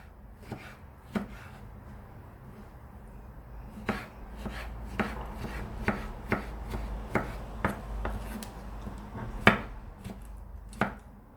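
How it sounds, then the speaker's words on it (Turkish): A knife chops tomatoes and peppers into small pieces steadily on a cutting board, crisp regular strikes close up, speeding into an even rhythm after a slower start. "Ben küçük küçük doğramaya gayret ediyorum."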